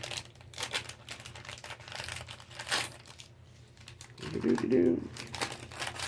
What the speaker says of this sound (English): So here's the little piece of paper right here.